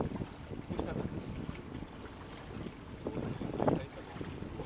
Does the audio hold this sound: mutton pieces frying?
no